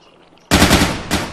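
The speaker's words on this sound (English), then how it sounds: "Will you stop shooting the same body?" Gunfire in the video game Intruder: after a moment of near quiet, a loud close burst of automatic shots erupts, briefly dips, then resumes.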